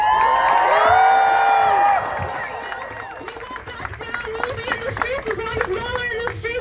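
A crowd cheers and whoops loudly at first, then the cheering fades into scattered shouts and excited voices over ongoing crowd noise.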